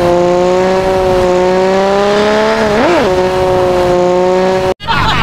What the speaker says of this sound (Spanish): Escuchemos el motor que viene por defecto